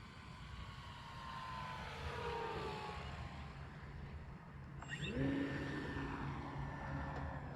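An E-flite Carbon Z T-28 RC airplane comes in to land over a grass field with no flaps, its motor a faint, distant drone whose pitch slowly slides and shifts, with a brief rising whine near the end.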